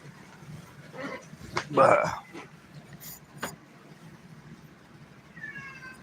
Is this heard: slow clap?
no